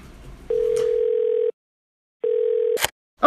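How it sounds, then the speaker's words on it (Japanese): A telephone ringback tone while placing a call: two steady mid-pitched beeps, each about a second long, separated by silence, with brief clicks and noises after the second tone. "あ、とりあえずミカちゃんに電話します"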